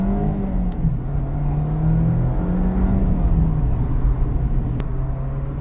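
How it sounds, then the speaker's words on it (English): The 2.0 litre engine of a 2024 Mazda MX-5 accelerating, a close rumbling drone whose pitch dips at a gear change and then holds, with a faint click near the end. "Engine makes a decent noise"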